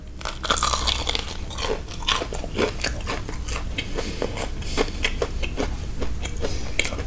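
Loud, close crunching as crispy fried chicken is bitten and chewed, repeated sharp crackling bites in an irregular rhythm with no talking.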